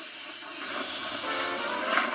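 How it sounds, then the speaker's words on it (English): Cartoon steam locomotive James lets out a big burst of steam, a steady, loud hiss that holds for about two seconds with no voices over it. "He was so scared, he let out a huge burst of steam"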